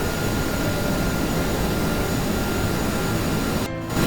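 Aircraft Saturn engines roaring in a video game flying competition, a continuous loud broadband jet roar holding steady throughout, with a brief dip near the end.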